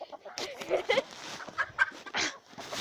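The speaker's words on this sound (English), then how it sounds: "the roosters are crazy because they haven't been with the hens in a while" Roosters kept apart from the hens cluck and squawk close by in short, uneven bursts, several calls overlapping across a few seconds.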